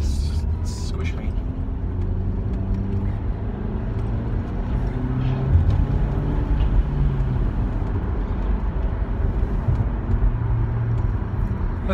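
Steady low rumble of a car's engine and road noise from inside the cabin while driving, continuous and fairly loud, with people talking over it.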